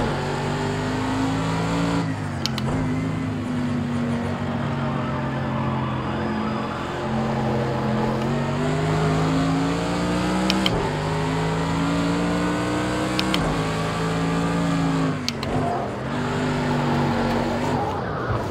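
A Mercedes AMG GT3 race car in Project Cars 2 drones loudly and steadily, its engine note rising and falling through gear changes, with brief clicks and tire squeal over nearly twenty seconds.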